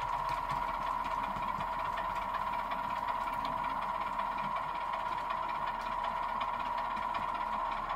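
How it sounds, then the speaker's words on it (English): A sound-fitted Bachmann Class 101 model diesel train idles with a steady, low mechanical hum and faint rattling vibration, constant and even throughout with no voices. "we've got engine idle"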